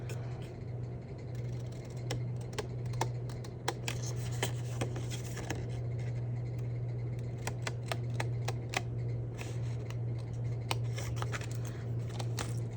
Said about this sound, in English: and then I would take scissors